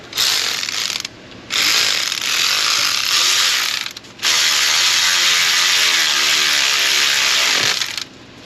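A ratchet wrench clicks rapidly and loudly while backing a 10 mm bolt off a Toyota 2GR-FE 3.5L engine's valve cover area, in three sustained bursts separated by short pauses.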